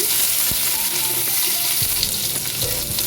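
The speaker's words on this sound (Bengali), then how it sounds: "টমেটোটাও ভেজে দিচ্ছি।" Raw banana pieces and chopped tomato frying in a pan, a steady close sizzle with occasional stirring clatters and bumps over a constant hiss.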